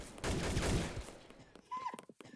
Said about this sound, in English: Oh, crap, they're firing at something